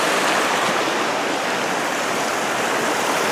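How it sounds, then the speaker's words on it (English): A small stream flows beside a trail to Mendenhall Glacier in Alaska, its water rushing in a close, steady, hissing babble with no voices. "Beautiful little stream here."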